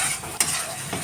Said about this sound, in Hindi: तो चलिए अभी मसाला इनको भून लेंगे, अच्छी तरह से भूनेंगे